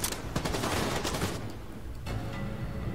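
Rapid gunfire bursts in The Division 2, a dense volley of sharp shots at close range in the first half, easing into scattered reports and ambient battle noise.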